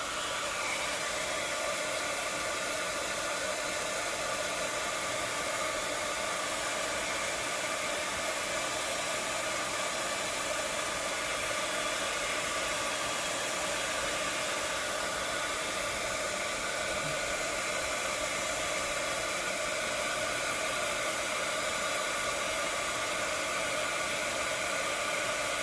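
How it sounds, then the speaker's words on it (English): A heat gun blows hot air over poured resin in an ocean-themed resin tray, a continuous steady whooshing hiss held close for the whole stretch with no talking. "let's go ahead and take the heat gun on it"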